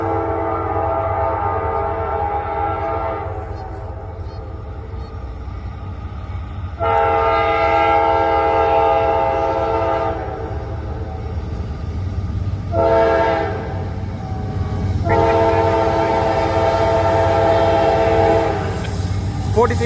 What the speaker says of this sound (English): So here's what we caught. Train.